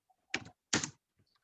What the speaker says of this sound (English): Oh God, I hate this English keyboard.